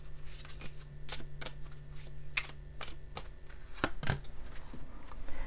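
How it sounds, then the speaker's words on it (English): A deck of romance angel cards is shuffled by hand, giving a steady series of crisp riffling flicks and taps, close and clear, with no talk over it. "I'm going to pull one of these romance angel cards."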